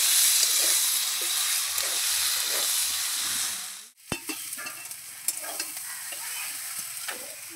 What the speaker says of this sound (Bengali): যেহেতু নিরামিষ বাঁধাকপি তাই 1 চামচ মতন এই যে ঘি দিয়ে দিলাম